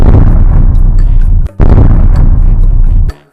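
Cartoon firecrackers burst in a loud, dense barrage of crackling booms that runs for over a second, cuts off briefly, then roars on again before dropping away.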